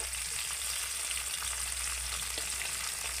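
Tangra fish frying in oil in a pan, pressed down as they cook, giving a steady, dense sizzle with no pauses and no talking.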